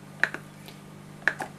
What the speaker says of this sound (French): Donc là je vais mettre mon cookéo sur la position hop dorée.